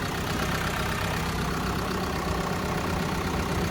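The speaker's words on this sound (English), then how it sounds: "that includes this 2-liter high output inline 4 engine" A 2023 Mercedes-Benz Sprinter 2500 AWD with a turbocharged 2.0-litre high-output inline-four diesel idles close by, giving a constant, even rumble throughout with no talking.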